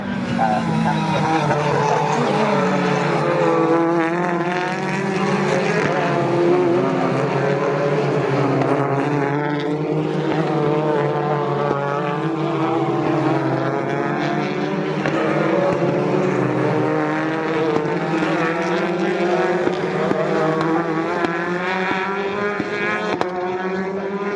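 Toyota Corolla touring cars racing at Snetterton in the British Touring Car Championship, accelerating down the centre straight: a loud, continuous roar of engines with rising and falling tones, steady throughout.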